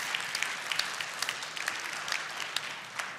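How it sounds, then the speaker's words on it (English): Seminar audience applauding, a steady patter of many hands clapping at moderate distance, fairly soft and without talk. "You should all give yourself a round of applause for coming today."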